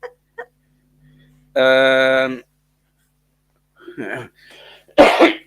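A single sharp cough near the microphone after a sustained vocal tone and some brief rustles, with quiet gaps between sounds.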